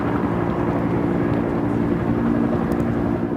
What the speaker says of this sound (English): this is the best I have of the helicopter that flew in, scouting to find the smoke